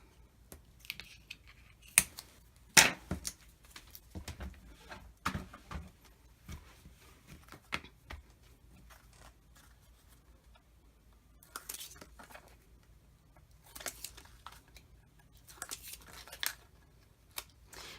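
Scissors snipping through paper while cutting out card pieces for papercraft, a series of crisp close cuts in irregular bursts with pauses between.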